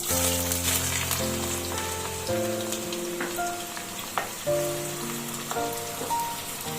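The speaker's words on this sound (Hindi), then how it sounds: "अब गैस को हम स्लो कर देंगे और ये जो प्याज है ये इसमें डाल देंगे।" Onions dropped into smoking-hot oil for a chicken masala give a continuous rain-like sizzle that runs under a clear melodic music track for the whole stretch.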